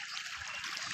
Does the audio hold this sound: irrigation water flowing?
yes